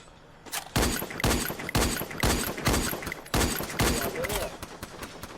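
Gunfire in the Free Fire video game, repeated loud bursts of shots in a rapid irregular rhythm, with people talking over it.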